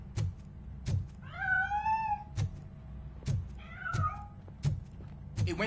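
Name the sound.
cat meowing in a video game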